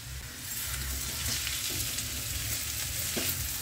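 Potatoes with sesame seeds frying in a pan over a steady close sizzle, with soft scraping stirs and a few light utensil taps.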